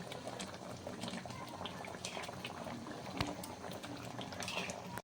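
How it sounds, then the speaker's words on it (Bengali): Creamy prawn malai curry sauce simmering to a boil in a pot, a steady close bubbling and faint hiss with scattered soft pops throughout, no voices. "তো ঝোলটা কিন্তু ফুটতে শুরু করেছে"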